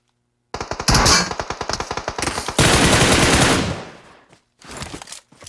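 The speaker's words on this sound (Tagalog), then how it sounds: "Pero gumanti rin talaga ng putok." Rapid automatic gunfire from a shooter video game, loud and close, with bursts of sharp repeated shots followed by a sustained roar of fire that tapers off into a few scattered later shots.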